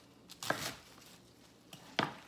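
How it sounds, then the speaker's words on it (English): A knife cuts quartered cabbage into big chunks for kimchi, two distinct crunchy chops about a second and a half apart, close and clear against a quiet background. "I'm just going to cut it into big chunks"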